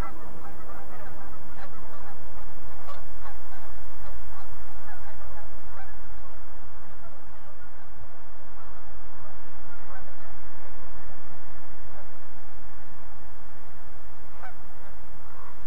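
Many geese honk at once, a dense and constant outdoor chorus with ducks mixed in, on a foggy river during a cold snap, loud and steady throughout.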